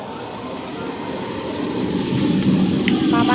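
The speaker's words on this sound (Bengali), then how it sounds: "ট্রেন ঢুকছে।" Train pulling into a busy Indian suburban station, a rumbling roll that builds steadily in loudness as it draws nearer, with a couple of brief high squeals near the end.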